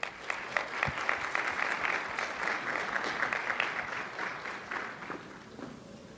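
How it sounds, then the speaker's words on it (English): A wedding reception crowd gives a sustained round of applause, dense clapping that holds steady for several seconds before slowly thinning out. "One more round of applause"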